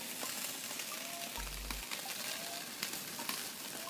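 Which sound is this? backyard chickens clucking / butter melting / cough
butter melting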